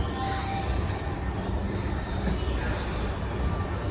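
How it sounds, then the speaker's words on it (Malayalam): A train rolls into platform 1 at Coimbatore Junction railway station with loud, sustained wheel squeals over a steady rumble of railcars, close and continuous. "നമ്മളെ ട്രെയിൻ പ്ലാറ്റ്ഫോം നമ്പർ 1 വന്നിട്ടുണ്ട്"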